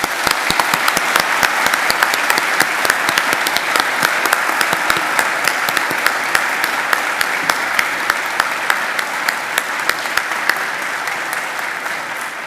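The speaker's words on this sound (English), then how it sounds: "please join me in giving them a round of applause" A large audience at a university graduation ceremony gives the graduates a long, loud round of applause, dense even clapping that holds steady throughout and eases slightly at the end.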